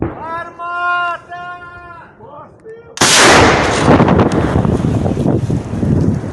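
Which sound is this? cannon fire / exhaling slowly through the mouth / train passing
cannon fire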